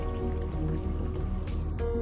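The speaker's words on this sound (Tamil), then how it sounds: "சீஸில் இருக்கிற தண்ணியை நல்லா புழிஞ்சு விட்டுடுறோம்." Water drips and patters steadily as homemade mozzarella cheese is squeezed out by hand in a towel, with no talking.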